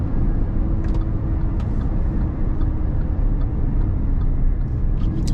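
A car with a ZF 8-speed automatic and a tuned transmission controller accelerates hard from a launch. The engine gives a loud, close, sustained roar with a steady broadband rumble throughout.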